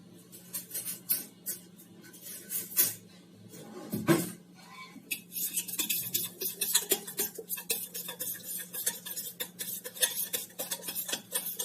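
A spoon stirs and scrapes through besan gravy in a metal pot after asafoetida goes in, producing close, repeated clinking and scraping strokes in irregular bursts, with one louder knock partway through.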